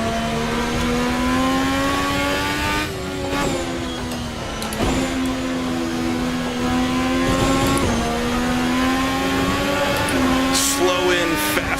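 A wingless modern Grand Prix car on hard bias-ply tires races in Assetto Corsa, its engine a loud, close, sustained whine that rises and drops sharply through several gearshifts, with someone talking over it.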